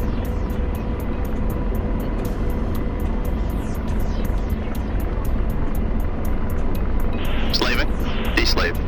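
Helicopter rotor thumping rapidly in a flight simulator game, a steady chopping beat under a continuous engine whine, with a synthetic cockpit voice and radio chatter over it.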